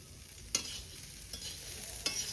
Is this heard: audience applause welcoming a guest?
no